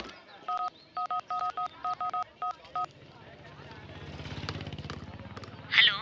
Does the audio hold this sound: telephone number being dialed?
yes